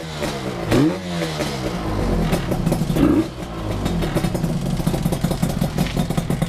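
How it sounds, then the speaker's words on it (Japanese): An early GJ21A Suzuki RG250 Gamma motorcycle catches on the first try without choke, then revs up and settles into a busy, crackling run with repeated throttle blips, close and loud. "このガンマは本当に調子がいいので、いつもチョークなしで一発でエンジンかかりますね。"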